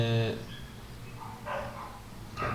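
A small dog barks in short, sharp bursts, one loud near yelp at the start and two more a second or so apart, over a low indoor background.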